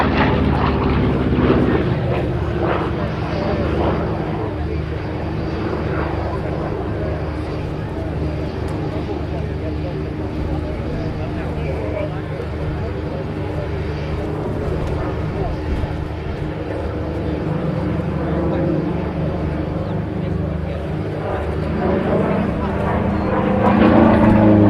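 A P-47D Thunderbolt propeller fighter, 'Nellie B', flying a display at the Abingdon 2023 airshow, its radial engine droning steadily throughout with a swelling roar near the end, under continuous spoken commentary.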